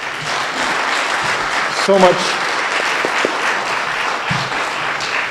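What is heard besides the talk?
audience applause after strings concert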